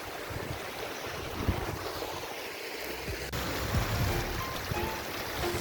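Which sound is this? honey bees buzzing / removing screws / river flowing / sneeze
river flowing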